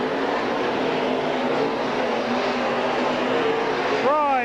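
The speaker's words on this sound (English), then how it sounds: "Doug Fry sticking right with him in that 15." Race cars roar around the oval at Silver Spring Speedway, a dense, loud engine wash with one car revving sharply at the end, under a track announcer's commentary.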